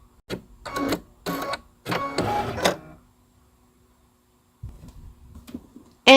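An embroidery machine stitching a cord base fill gives several short bursts of mechanical whirring and rattling, close and moderately loud, separated by brief pauses, then a quiet low hum and an abrupt loud noise at the end.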